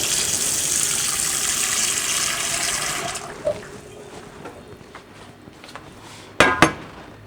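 Hot water pours and gushes steadily for about three seconds, then stops, followed by quieter handling noises and a couple of sharp clinks of a cup or dish.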